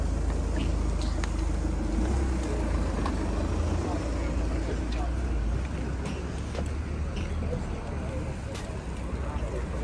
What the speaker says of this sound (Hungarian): rengeteg autó jön itt